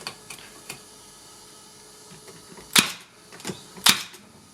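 A Milwaukee narrow crown stapler drives staples into pine, giving two sharp, loud snapping bangs about a second apart, with a few fainter ticks and clicks around them in a quiet room.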